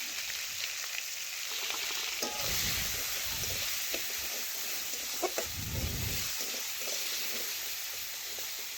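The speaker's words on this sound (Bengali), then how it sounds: "এখন ভালোভাবে নাড়াচাড়া করে কাঁকরোলও আমি একটু ভেজে নেব" Kakrol (spiny gourd) frying in hot oil with salt and turmeric, a steady close sizzle with occasional low scraping thumps as the pieces are stirred around the pan.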